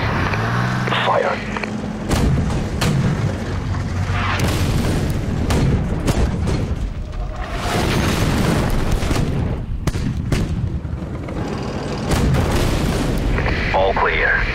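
Artillery fire in the video game Armored Warfare: heavy booms and blasts roll out repeatedly amid loud, dense battle noise and rumbling vehicles, with voices talking over the action.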